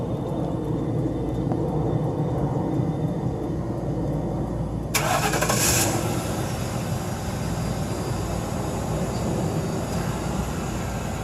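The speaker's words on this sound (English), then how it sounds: "One of the things I did do when I first initially got the vehicle was remote start." A car engine starting by remote start: a steady background rumble, then the engine fires about midway with a brief loud burst and settles into a continuous close idle.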